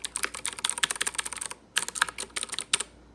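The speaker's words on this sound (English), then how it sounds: "we're going to do a sound test for the ducky compared to the Apex Pro TKL." Ducky mechanical keyboard with clicky Cherry MX Blue switches being typed on, a rapid close run of sharp clacks, a brief pause, then another burst of keystrokes, with no voices.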